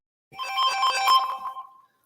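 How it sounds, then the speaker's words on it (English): A telephone ringtone plays alone, a bright electronic melody of rapid repeated tones lasting under two seconds, loud and close, then cutting off into silence. "I'm getting phone calls."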